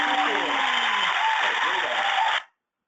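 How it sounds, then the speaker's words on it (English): A round of applause plays during an online user group webinar, a steady, even wash of clapping under a speaking voice that cuts off abruptly into silence. "one more time, a big round of applause there, Robert, please."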